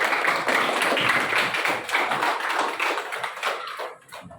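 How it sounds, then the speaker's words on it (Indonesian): A classroom of students gives a burst of applause, many hands clapping densely and steadily before it thins out at the end. "Tepuk tangan buat teman-teman."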